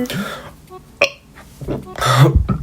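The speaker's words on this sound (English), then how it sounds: "I can't stop burping." A person lets out a string of burps, short throaty eructations that sound close and loud, with brief vocal sounds between them.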